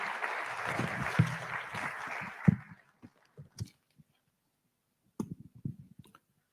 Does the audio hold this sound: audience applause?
yes